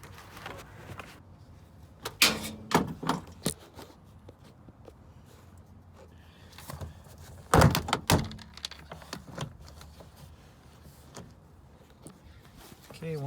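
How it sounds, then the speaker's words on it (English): A door panel on a 2006–2011 Honda Civic is pried off from the bottom, giving sharp plastic clip pops and snaps in two clusters, close by, with a person talking in between. "Then next, we're going to pull the door off from the bottom."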